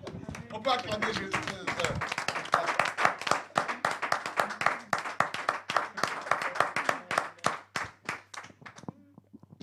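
Congregation clapping in church in praise of Jesus, a dense, steady wave of many hands applauding for several seconds, fading toward the end.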